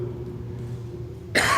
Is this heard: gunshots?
no